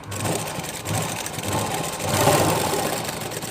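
A sewing machine stitching blouse cloth, running in a steady close mechanical whir with a rhythmic motor hum that swells louder toward the end, with no talking.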